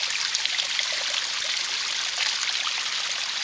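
Cold spring water from the Amazon flows and trickles steadily up close, a continuous bright splashing rush without speech.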